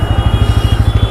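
Bajaj Pulsar N160 motorcycle engine running close by, a loud, steady low thumping pulse with even rhythm over a constant hum, no talk.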